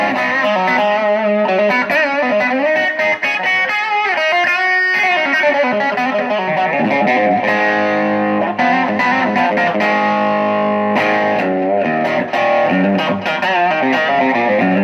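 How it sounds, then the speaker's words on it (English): Electric guitar on the bridge pickup with light overdrive, strummed chords and ringing notes played continuously, loud and close with a slightly gritty edge. "Bridge with a little bit of drive sounds like this."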